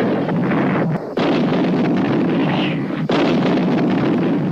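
Loud, continuous rumbling blasts and fire from a 1988 post-apocalyptic action film, a dense roar with two brief drops before it surges back, no voices heard.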